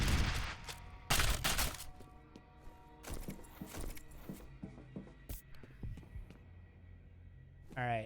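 A weapon fires in the shooter game F.E.A.R., giving several sharp, loud shots early on, followed by scattered clanks, impacts and footsteps that gradually thin out. No one speaks.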